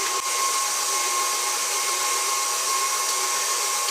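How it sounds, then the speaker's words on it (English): An electric mixer beating cookie dough with eggs and vanilla for Christmas M&M cookies, a steady, even motor whir that runs unbroken and fairly loud from start to finish, with no talking. "We're going to let that stuff mix up for a second."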